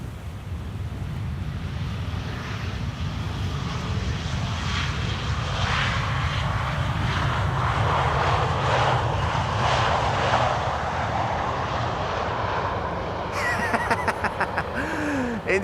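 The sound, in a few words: KLM Embraer 175 jet landing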